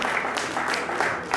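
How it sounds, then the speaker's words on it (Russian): Concert audience applauding at a jubilee celebration, dense steady clapping from a crowd heard at moderate level throughout, with a few sharper claps standing out. "Ваши аплодисменты"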